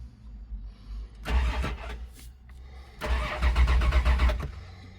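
A 1989 Dodge Dakota convertible engine cranks in two bursts, the second catching and starting, loud and close with no talk.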